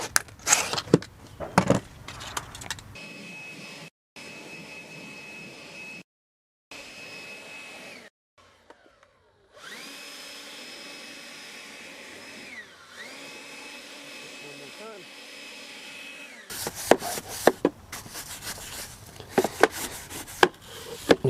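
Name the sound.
belt sander sanding wood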